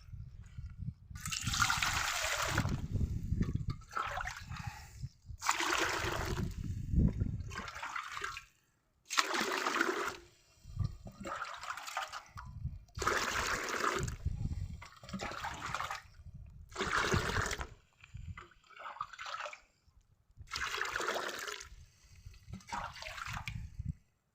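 Water being filled into a bucket in a village farm setting: repeated gushing, splashing bursts, each a second or two long, separated by short pauses.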